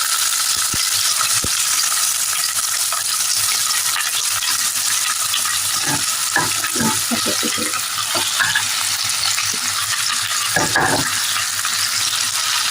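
Vegetables sauté in hot oil for masala Maggi, giving a loud, continuous frying hiss with scattered clinks and scrapes of a spatula stirring in the pan, close up and without speech.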